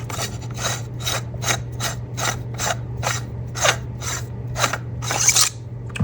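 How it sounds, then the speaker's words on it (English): A lightsaber handle being unscrewed by hand to reach the chassis, a steady run of about a dozen close, dry ratcheting rasps over a low constant hum, with no voices. "you just want to unscrew the handle here"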